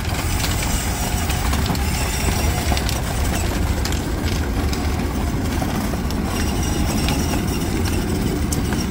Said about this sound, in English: Look at the big train.